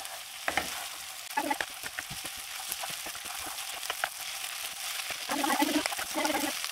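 A bread-based snack mixture stirred and mixed in a pan, with repeated scraping strokes of the utensil over a steady background sizzle; bursts of stirring come in clusters, and no one talks.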